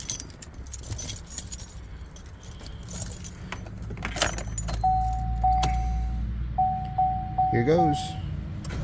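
2017 Chevy Silverado being cranked after a starter replacement, with keys jangling first, then a brief starter whir and the engine catching into a low steady idle, while someone talks briefly over it.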